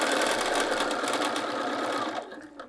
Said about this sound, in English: I'm just going to stitch